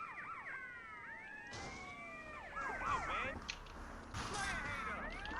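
Several police sirens wail and sweep at once in GTA: Liberty City Stories, overlapping rising and falling tones over a busy street with car noise, fairly close and loud.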